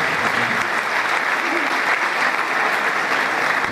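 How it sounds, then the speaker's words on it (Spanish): A crowd applauds loudly and continuously at a municipal ceremony in Chipiacul where auxiliary mayors take office, a dense, even clatter of many hands filling the space throughout. "Un fuerte aplauso para el señor Guillermo Tunteleguario"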